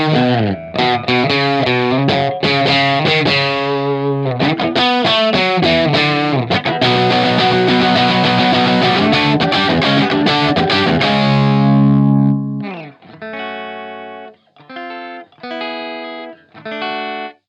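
Electric guitar through a Rockett Archer overdrive pedal set at the very edge of breakup, with a touch of gain. Chords ring out continuously and loudly with no talk, then thin into sparser, choppier phrases near the end.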